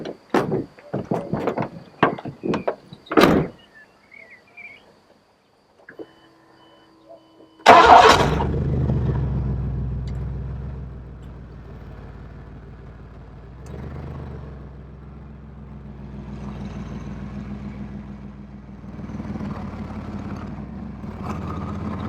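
A Chevy Astro van's door is handled with a few sharp clunks, then the engine turns over at about eight seconds and settles into a steady, close idle rumble that keeps running alone.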